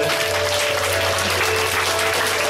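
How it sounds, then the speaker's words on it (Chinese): A congregation applauds during a church worship service, a dense and loud burst of clapping from many hands that holds steady throughout, with music or a sustained tone underneath. "我们将掌声归荣耀给神。"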